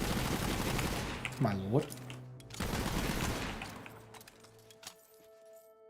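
Rapid Gatling gunfire from a Borderlands 3 video game battle, loud sustained bursts with a whirring rising tone and explosive crashes, broken by a short pause, while someone briefly speaks over it.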